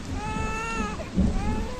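Steady rain pours with rolling thunder in a storm, a continuous close wash of drops with a low rumble building near the end, no voices.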